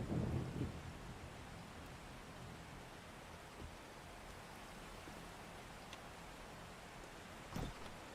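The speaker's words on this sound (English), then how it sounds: "Sounds like it's raining outside." Steady rain with distant thunder rumbles outdoors in the survival video game 7 Days To Die, a constant hiss of falling water broken by a couple of low booms, with no talk.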